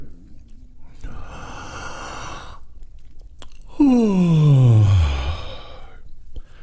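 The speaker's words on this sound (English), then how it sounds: "Yawn again and feel this area." A yawn during a choir breathing warm-up: a long breathy inhalation followed by a loud voiced yawn sliding downward in pitch, then a quiet exhale, close and alone.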